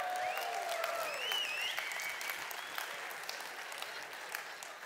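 A crowd at a sermon gives steady, full applause that holds evenly and eases slightly toward the end, with a few whoops and faint voices rising within it.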